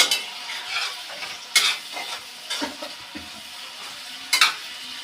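Spice masala for a paneer and potato curry being stir-fried in a pan, with a soft sizzle broken by several sharp scrapes and clinks of a spatula against the metal.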